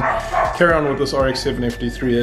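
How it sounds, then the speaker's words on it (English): Someone talks while dogs bark repeatedly close by, the barks overlapping his speech. "Sorry about the dogs barking."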